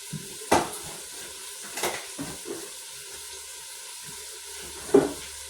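Oil sizzling and popping in a pan while Irish stew is being made, a soft steady fry with a few sharper clinks and stirring knocks scattered through it, close and fairly quiet.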